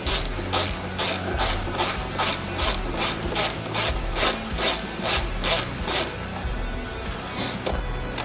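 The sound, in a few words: ratchet removing rear turn signal bolt on Harley Road Glide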